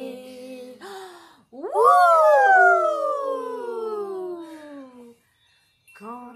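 Wailing fire engine siren in a French children's song about firefighters, a loud rising-then-falling tone sweeping down over about three seconds between short sung phrases.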